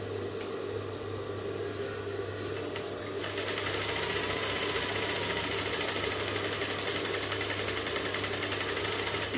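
A Juki industrial high-speed sewing machine stitching fabric: a low steady hum that breaks into a loud continuous whirring buzz of the running machine partway through, close and sustained, with no talk.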